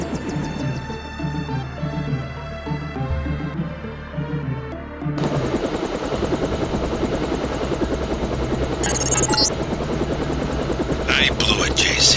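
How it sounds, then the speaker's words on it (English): A stealth helicopter in the video game Deus Ex flies with a steady, loud rotor drone that swells into a fuller, closer roar midway, with brief game sound effects on top. "Time to see if this stealth copter is worth all the fuss."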